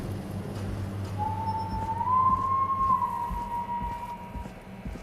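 A single drawn-out whistle from the whistling man in the horror game Killer Frequency, a thin wavering tone rising slightly and holding for a few seconds over a low rumbling ambient bed, with no talking.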